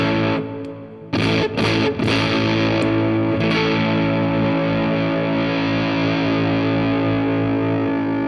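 An electric guitar through a Wampler Velvet Fuzz pedal in tight mode, with less gain, plays a few choppy strums, then rings out in one loud sustained distorted chord that holds to the end.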